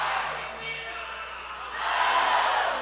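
Arena crowd at a 2019 NCAA Division III men's basketball championship first-round game, a broad murmur of spectators that swells louder toward the end, with talk over it.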